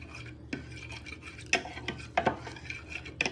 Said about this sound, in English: Just give that a little bit of a stir in so it starts to evaporate